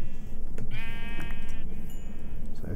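A Minecraft sheep gives one clear, wavering bleat up close over a steady game background, followed by a brief second cry near the end.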